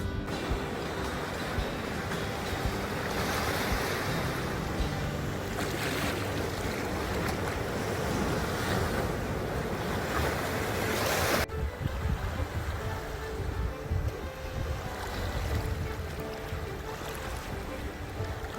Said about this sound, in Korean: 오늘은 바람이 별로 안 불어서 파도가 좀 잔잔, 잔잔한 편입니다. 그래도 큰 파도가 한번 밀려옵니다